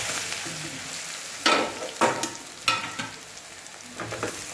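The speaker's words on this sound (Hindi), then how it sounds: "राई फूटी गई है, हमें अपने अंदर खमण नाखी दई।" Khaman pieces tossed into a hot tempering of popped mustard seeds in oil give a steady sizzling hiss, broken by several sharp scraping bursts of stirring, fairly close and with no voices.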